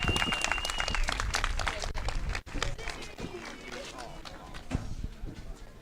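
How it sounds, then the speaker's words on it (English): A crowd at a kart racing prize ceremony applauds the top five X30 Senior drivers, a dense, steady clapping that fills the scene and carries under an announcer's voice. "Let's get a final round of applause then for our top 5 in X30 Senior"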